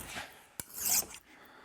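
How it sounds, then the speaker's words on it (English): A single rasping stroke of a hand file across the metal edge of a hardy tool, short and close, with a sharp scrape rising then stopping. "as I run my file across"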